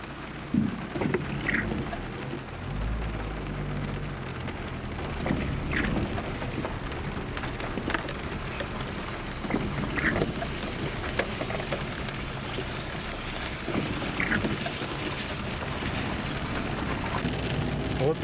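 Steady rain falls outside a house during a week of wet weather, a continuous hiss of drops on surfaces with scattered louder patters and a low rumble underneath, no talking.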